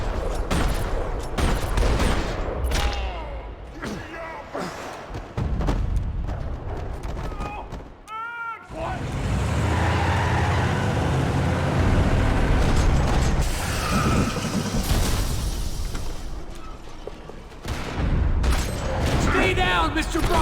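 Gunfire rattles across a parking lot in the video game Max Payne 3, dense bursts and clattering mechanical shots mixed with game sounds and music, with voices speaking in between.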